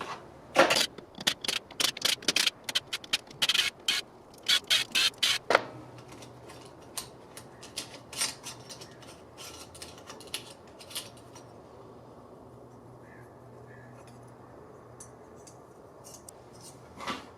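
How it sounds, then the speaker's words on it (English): Socket wrench with a 10mm socket backing off metric clutch cover bolts on a Harley Davidson Touring motorcycle, a burst of sharp close ratcheting clicks followed by sparser taps and faint rattles, with no voices. "we're going to evenly back off these right here. And these are metric. You're going to need a 10mm socket for those."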